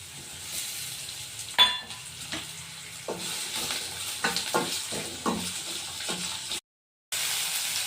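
Chopped tomato stirred and frying in a pan, with a soft steady sizzle broken by repeated scraping and stirring strokes, close up and alone, cutting out briefly near the end.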